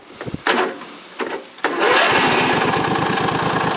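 A John Deere lawn tractor engine is started: a few cranking attempts, then it catches and settles into a steady, loud, close running rumble.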